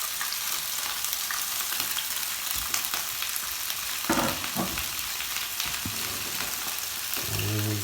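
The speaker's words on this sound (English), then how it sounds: "Yeah, I can hear a bit of a sizzle." Vegetables sizzling and crackling in a hot pan during a beef stir-fry, a steady loud frying hiss with occasional stirring clatter and scraping throughout.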